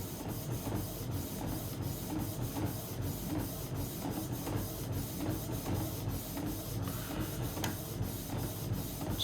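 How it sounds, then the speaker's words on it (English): A Canon Pixma TS702a inkjet printer printing a PVC card, giving a steady mechanical hum with rapid rhythmic clicking and ticking throughout, recorded close at low level with no voices. "It's printing now."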